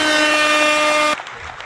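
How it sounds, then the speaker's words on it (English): A loud, sustained air horn blast at a Melrose holiday community event, holding one steady harmonic-rich tone for just over a second before cutting off abruptly into quiet room noise. "Yeah, air horn."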